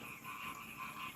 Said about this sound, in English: This is frogs. daytime swamp.